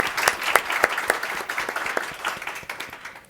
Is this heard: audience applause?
yes